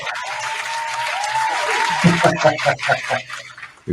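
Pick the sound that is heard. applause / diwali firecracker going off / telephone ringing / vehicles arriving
applause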